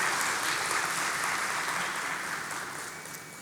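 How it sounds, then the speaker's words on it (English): An audience at a formal ceremony claps steadily after a performance, a dense, even applause that slowly fades toward the end. "Please give them another round of applause."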